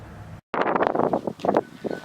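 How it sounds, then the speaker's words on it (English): Gusty wind buffets the microphone in rough, uneven bursts, briefly cutting out before roaring back. "I do realize it's a little windy"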